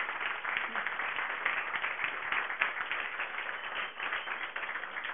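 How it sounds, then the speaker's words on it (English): Audience applause for a speaker after a technical talk on USB in embedded systems, a dense, even patter of many hands clapping steadily for several seconds, moderately faint and unbroken. "give her a round of applause."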